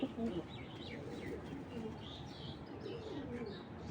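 A tagged female racing pigeon from 2021 gives soft, low cooing calls at close range, with faint chirps and a quiet background murmur.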